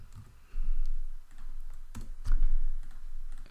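Computer keyboard keys are pressed in short irregular bursts of clicks, close and distinct, with a couple of louder taps among the lighter typing.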